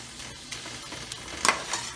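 Eggplant bharta with tomatoes frying in a pan, a soft steady sizzle with brief scraping stirs and a louder rustle near the middle.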